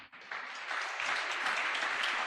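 A church congregation applauds in thanks to the Lord Jesus Christ during a Spanish-language family sermon, a steady, dense wash of clapping that builds after a brief lull and carries on evenly with no voices.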